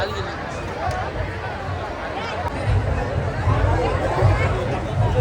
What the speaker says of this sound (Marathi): पुढे पुढे अजून गर्दी भरपूर आहे